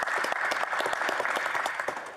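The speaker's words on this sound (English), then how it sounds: "If we could get a round of applause for the police." Members of parliament applaud in the chamber to honour the police. The dense, steady clapping of many hands fills the room with no voices over it.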